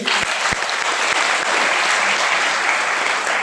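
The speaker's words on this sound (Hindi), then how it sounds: "तो हमारे इरफान सर के लिए एक ताली होना चाहिए" A dense burst of audience applause fills the room at a motivational talk, steady and loud from start to finish, with a few sharper claps near the beginning.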